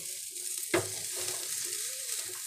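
A spoon stirs suji halwa in a hot pan, making a soft sizzle with one sharp scrape and quieter scraping strokes after it, close and steady.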